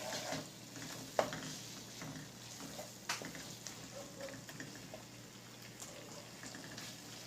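Ojhri masala, spiced tripe with fresh coriander, sizzling and frying in a pan while a spoon stirs it, with a steady hiss and occasional scrapes and knocks, close up and quiet, with no talking.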